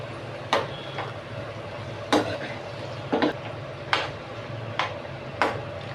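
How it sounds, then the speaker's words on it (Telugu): A spoon scrapes and knocks against a pan at a steady pace, roughly every second, as chopped carrot and vegetables fry over low heat, with a soft constant sizzle underneath. "ఇవన్నీ ఇట్లా సన్న సగ మీద శుభ్రంగా వేయించుకోవాలన్నమాట"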